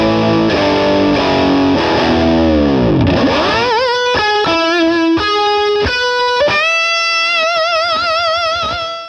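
A loud, heavily distorted electric guitar plays a swooping divebomb-style bend, then picks out the Star Spangled Banner melody in sustained notes, ending on a long vibrato note that fades.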